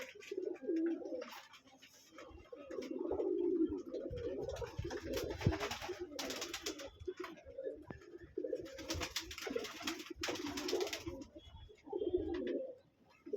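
Lotan pigeons coo in a pigeon loft, soft repeated throaty calls overlapping throughout, with intermittent rustling and knocking noises, fairly faint and nearby.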